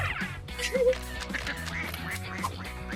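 Ducklings quack in short bright peeps at a pet's waterpark build, with music-like tonal layers and a busy background running throughout at moderate loudness.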